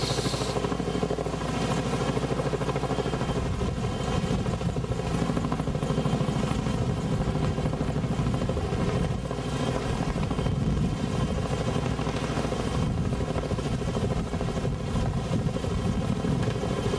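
A flying-crane helicopter hovers low over a stream bank during restoration work, its rotor thumping and turbine roaring loudly and continuously.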